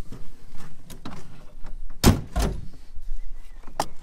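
Door handle on a Jaguar E-Type under restoration being worked: soft mechanical clicks and rattles of the linkage, then a loud metallic clunk of the latch and a second thunk, close up with no talking.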